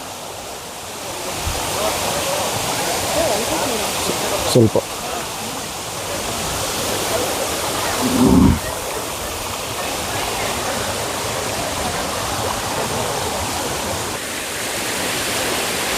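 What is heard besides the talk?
waterfall in a forest, Abbi Gundi Falls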